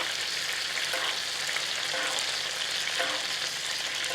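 Monkfish frying in a pan while being basted with butter, a loud, steady, close sizzle that holds without a break, with faint spoon scrapes and no voices.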